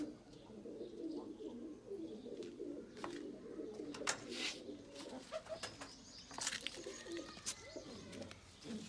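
Pigeons coo in a low, continuous burble through a loft of fancy long-headed black pigeons, with occasional wing flaps and chirps breaking in over the steady murmur.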